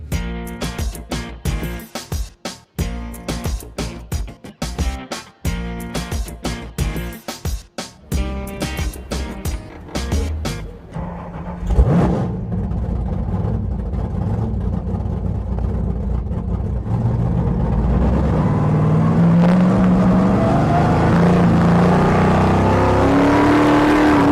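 A 1973 Plymouth Fury race car at a 24 Hours of Lemons endurance race comes through in choppy, loud bursts, then settles into a sustained, rising engine roar as it drives fast, with no talk.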